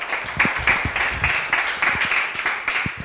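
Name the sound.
audience applause at a debate competition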